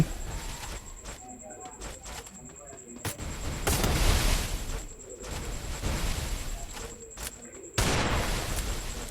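Gunfire from the Free Fire video game during a custom match, heard as repeated sharp bursts and shots spread across the stretch under ongoing game sounds, with some loud blasts standing out.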